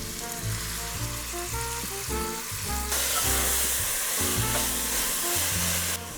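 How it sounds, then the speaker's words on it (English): Diced soffritto vegetables go into a pan of browned, unsmoked pancetta, and a loud, steady sizzle swells sharply about halfway through, continuing over a backing of music with no talking. "So now we're gonna add our soffritto."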